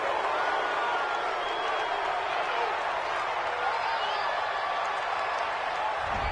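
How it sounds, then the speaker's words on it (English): A stadium crowd at a football game roars and cheers after an interception, a dense, continuous wash of distant voices holding steady throughout. "This home crowd, they're happy with that call."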